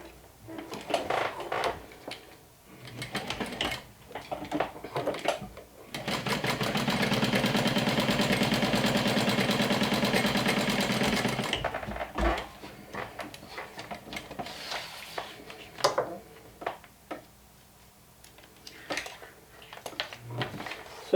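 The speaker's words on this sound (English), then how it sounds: "stitch this part together with 1/8 of an inch seam" A sewing machine stitches a 1/8-inch seam through two layers of vinyl on a slim sling bag, giving a steady, loud mechanical whir for several seconds, with short bursts and handling clatter before and after.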